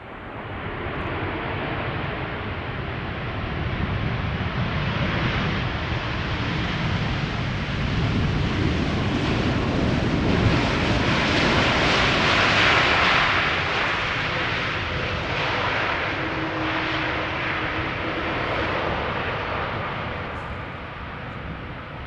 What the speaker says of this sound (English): the next airplane is arriving from Atlanta, Georgia, 78710 KLM flight 622